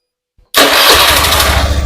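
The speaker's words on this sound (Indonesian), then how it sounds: "Kita coba matikan, hidupkan lagi" A Honda Beat FI motorcycle engine with a fault that makes it sputter and start hard. After a brief silence it catches abruptly and settles into a loud, close, steady idle.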